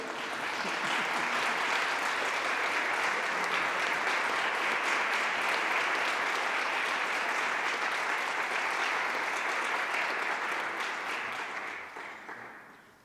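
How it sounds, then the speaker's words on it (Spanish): Sustained applause from a lecture audience at a talk on a musician of the Independence era, steady dense clapping for about twelve seconds before tapering off. "pueden aplaudir"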